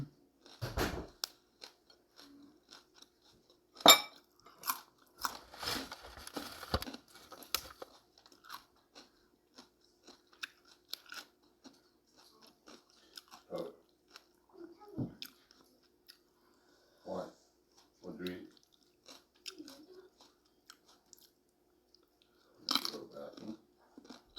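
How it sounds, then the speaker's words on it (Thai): Crunchy papaya salad being chewed close up, with irregular bursts of crisp, wet crunching and biting that come and go, separated by quiet pauses and occasional soft sounds. "เคี้ยวเยอะ"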